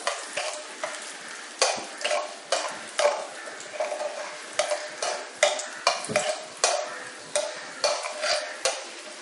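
Mustard seeds and urad dal tempering in hot oil, a continuous sizzle broken by rapid crackling pops, with a utensil occasionally stirring in the pan, close and steady throughout.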